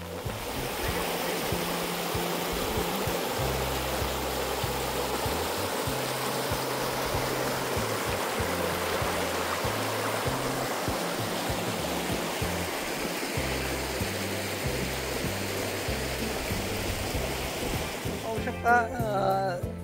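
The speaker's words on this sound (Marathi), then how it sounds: "हे पाणी जे एवढं वाहतंय" Continuous broadband rush of flowing water, steady and close, with a low throbbing hum underneath and a brief voice at the very end.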